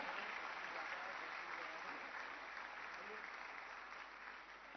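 Sustained audience applause at a Delhi government offer-letter event, a dense, steady wash of clapping from a large crowd that holds loud throughout and eases slightly toward the end.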